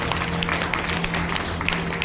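Audience applause at a Bhagavat Katha religious gathering, a dense, steady patter of many hands clapping together, with a low hum running underneath throughout.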